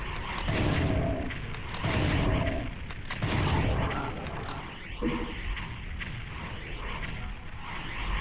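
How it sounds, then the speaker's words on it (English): Heavy rocket launcher blasts in the shooter DOOM 64, a series of loud booming explosions with rumbling tails, several bursts spaced a second or two apart. "Well, I guess I hit the rocket launcher"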